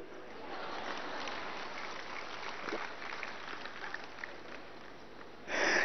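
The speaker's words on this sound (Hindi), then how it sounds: "इसमें भी हंस रहे, ताली बजा रहे" Audience clapping and laughing at a yoga session led by Swami Ramdev, a dense steady patter of many hands sustained throughout, swelling slightly louder at the very end.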